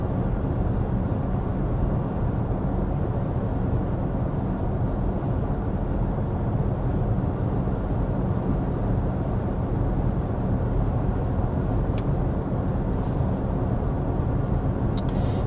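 Cabin of a 2025 Genesis GV70 cruising at 55 mph with the climate fan on speed 1 and rear climate off: a steady, even low road and wind rumble holds throughout, with a couple of faint ticks and no talking.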